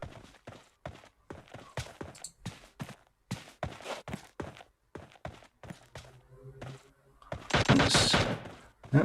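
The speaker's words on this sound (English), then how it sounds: "some rounds being exchanged" Rapid exchange of gunfire in a first-person shooter match, sharp repeated shots in quick bursts with short gaps, ending in a louder, denser volley near the close.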